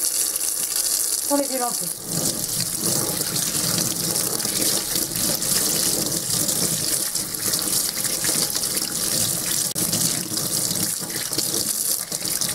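Tap water gushes steadily into a sink as paint brushes are rinsed under it, a continuous loud splashing stream with a brief voice at the start.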